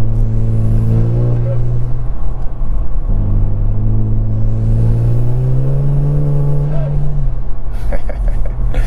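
A Kia Stinger GT engine revs up and down through several loud rising and falling pulls, with a deep intake roar close by.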